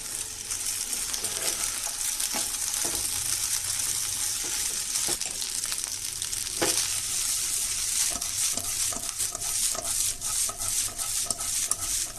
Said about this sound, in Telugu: కారం సరిపడినంత వేసుకొని కలుపుకోవాలి